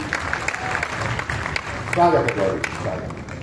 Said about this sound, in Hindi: इस बात के लिए जोरदार तालियां हो जाएं